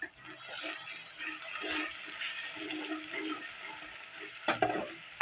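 Tomatoes fry with ginger garlic paste in a pan, a soft steady sizzle with faint stirring, and a couple of louder scrapes near the end.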